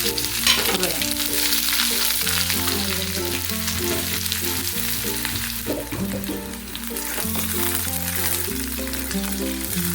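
Shallots, mustard seeds and cumin sizzle in hot oil with a dense, continuous hiss and crackle that runs the whole time beneath steady background music.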